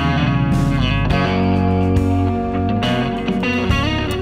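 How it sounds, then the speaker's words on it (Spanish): An electric guitar runs through the R-21 Tornado overdrive pedal with extra compression, giving thick, sustained distorted chords and notes that ring out loud and full with no talk over them. "tenemos prácticamente el mismo sonido, pero esta vez sí añadimos esa compresión extra para tener un overdrive más que distorsión más grandota"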